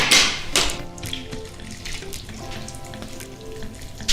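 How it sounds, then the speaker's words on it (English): Liquid made earlier in a Thermomix is poured over a chicken and rice bake, giving a splashing, sizzling wash of sound that starts with a loud burst and then settles into a steady trickle, with no talking. "Now I'm going to pour the liquid that I made in the Thermi earlier over this."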